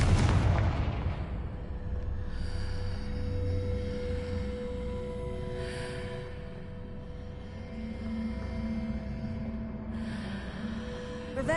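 The Confringo fire spell blasts in Hogwarts Legacy with a loud booming explosion at the start, then rumbling, crackling fiery aftermath and a few softer whooshing bursts over a low drone, with no talking.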